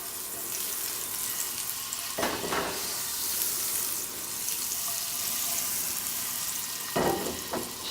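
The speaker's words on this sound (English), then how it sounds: "we're gonna saute them and then we can eat them" Blanched green beans being sautéed in a pan, a steady close sizzle with two brief bursts of louder stirring and scraping as the beans are moved around, no talking.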